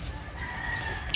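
Gamefowl chickens kept at a Filipino backyard farm call out near the microphone in a brief clucking burst over low background noise, with a sharp loud sound at the very end.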